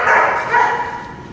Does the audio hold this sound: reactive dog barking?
yes